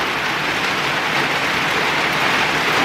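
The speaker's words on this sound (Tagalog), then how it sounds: "sobrang lakas pa rin yung ulan" Heavy rain pours down in a dense, constant hiss with no breaks, loud and close, and no voices are heard.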